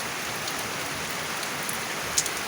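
Heavy rain pours steadily outside a house, a dense, even hiss of drops hitting surfaces with a few sharper drips standing out near the end, and no voices.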